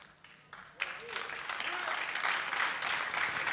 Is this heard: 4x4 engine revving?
no